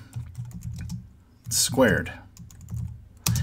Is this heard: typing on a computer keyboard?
yes